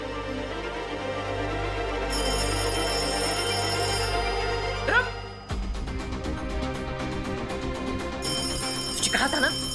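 A telephone rings loudly in a bell-like repeating pattern that stops and restarts, with a voice talking between rings in a Hindi TV drama.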